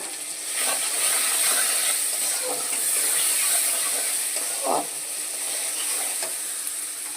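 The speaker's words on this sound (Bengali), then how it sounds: "পরিমাণ মতন একটু হলুদ দিয়ে দেব দিয়ে এটাকে একটু সুন্দর করে কষিয়ে নেব" Bhola fish curry sautés with turmeric in a pan, giving a steady, close sizzle and hiss throughout, with one brief scrape of stirring partway through.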